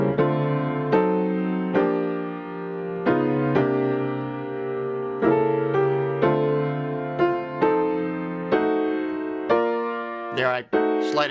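Piano chords of Auld Lang Syne in a jazzy drop-two reharmonization ring out one by one, each struck with a clear attack and left to decay, closing with a brief rolled flourish.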